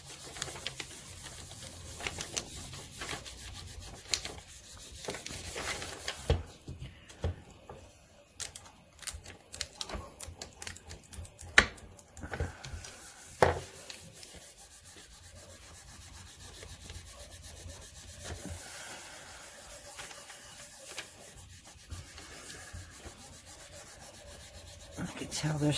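Printer paper rubbed over polymer clay to blend a mokume gane pattern: a faint, steady dry scratching and rubbing with soft irregular strokes, close up, no talking.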